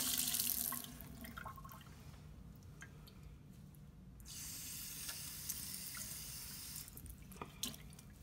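Water pours and trickles onto orthoglass fiberglass splint material for wetting before application, a steady hissing splash with a brief pause midway, then continuing evenly and fairly close.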